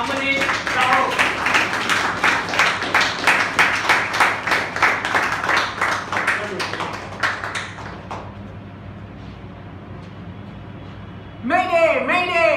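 Sustained audience applause for a Toastmasters speaker at a club meeting, dense rhythmic clapping for about eight seconds that fades out, followed by quiet and then a voice beginning to speak.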